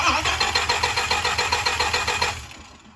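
A Dodge Viper supercar with a no-start fault cranks for about two and a half seconds with a fast, even, rhythmic starter churn, then stops without firing.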